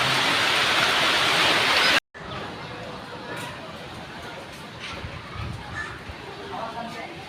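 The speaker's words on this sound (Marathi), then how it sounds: "प्रचंड हवा सुटली आहे मित्रांनो कदाचित पाऊस पडण्याची शक्यता आहे भयानक असं वारं सुटलेलं आहे" A strong gusty wind blowing before an unseasonal rain makes a loud broadband roar at first, then drops sharply to a lower, uneven rushing of air with a few brief gusts.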